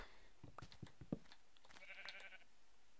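Minecraft sheep bleating faintly in the game, a short series of clicky in-game sounds followed by a thin, wavering bleat, quiet and without talk.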